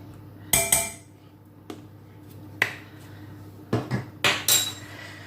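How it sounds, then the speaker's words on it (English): A sauce with tomato ketchup at a low boil being stirred in a pot, heard as a few sharp, close clinks and knocks of a utensil against the pot, spaced out with quiet gaps between. "And I'm going to give that a stir."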